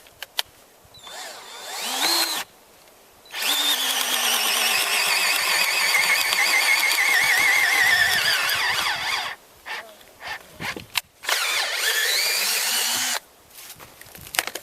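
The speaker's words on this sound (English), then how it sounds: "I just kind of drill at the same spot" A power drill bores a hole into a piece of limb wood in long sustained runs, whining steadily up close, broken by short pauses and brief restarts.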